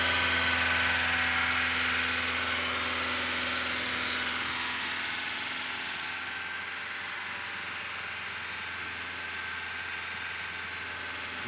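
A 2017 Toyota Calya automatic with a sluggish, power-lacking engine, held at a steady 2000 rpm during tuning, gives a constant buzzing drone with a firm low hum, fading slightly over time, and no one speaks.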